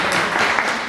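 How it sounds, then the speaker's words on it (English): Brief burst of clapping from a small gathered audience at a donation social, thanking a wine sponsor; short, close and even. "The wine always gets a clap."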